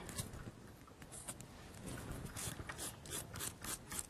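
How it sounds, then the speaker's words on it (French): A nail file rasps beneath a fingernail during a nail art session, giving quick close scraping strokes in an uneven rhythm with small clicks and no voices. "je vais peaufiner le travail en rabattant et en passant ma lime en dessous de l'ongle"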